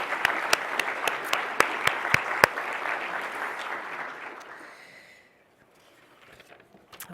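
Steady applause from a crowd at a lifetime achievement award ceremony, with a few sharp nearby claps standing out, fading away over several seconds into near silence.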